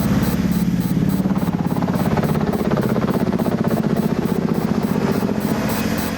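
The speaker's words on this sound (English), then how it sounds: "The 101st were loaded once again onto 66 Black Hawk helicopters, which flew little more than 10 feet above the desert" Black Hawk helicopters flying low over the desert give a loud, continuous rotor thump with steady rapid blade pulses and engine whine, close and unbroken throughout.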